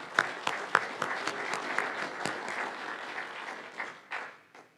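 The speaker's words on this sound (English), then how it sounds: "I wanted to give Richard Winger a round of applause." Convention attendees at a Libertarian Party of California gathering in San Diego clap for Richard Winger, a moderate, scattered applause with a few sharp individual claps that thins out and fades at the end.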